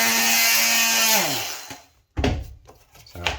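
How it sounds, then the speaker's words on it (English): A multi-tool cuts through old MDF flooring indoors, a steady high-pitched buzz that drops away, then a few rougher bursts of cutting close by. "I'm just going to cut this with a multi-tool just to give myself a bit more room to manoeuvre."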